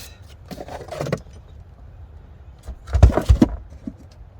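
Keys and mounting hardware for a Yakima SlimShady awning jangle in a couple of short metallic bursts, the second louder and closer, with quiet handling between them and no talk.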